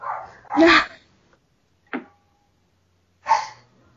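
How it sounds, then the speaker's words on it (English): Dogs bark in a home during a podcast, giving a couple of loud close barks and a short yip separated by silent gaps. "Sorry about my dogs."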